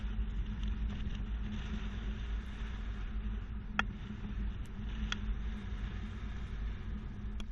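A 2020 Toyota RAV4 carrying a Swagman XC2 two-bike rack weaves through a slalom on a test course, a steady low rumble of road and engine noise with a few faint ticks and rattles from the rack.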